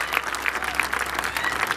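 Farmers at a tractor rally in Jagtial clapping together, a brisk, continuous burst of close crowd applause with distinct sharp claps throughout.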